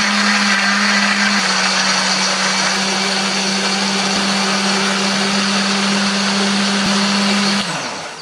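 A loud blender whirs steadily for several seconds, grinding a thick chili and spice paste with a little water, then winds down as it is switched off.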